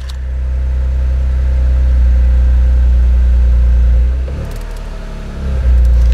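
A Toyota GR Corolla engine idles loudly with a deep, steady rumble, dipping briefly before surging back near the end.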